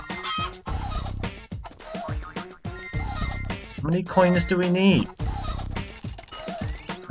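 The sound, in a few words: chicken noises in a video game's music, Mort The Chicken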